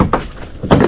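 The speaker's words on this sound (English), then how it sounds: "Nope, that door handle doesn't work." Two quick rattling clunks a moment apart, like a car door handle being pulled and snapping back, close by with no talking.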